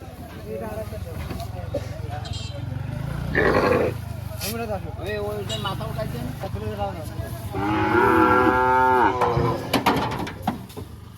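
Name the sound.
cattle mooing while being loaded onto a truck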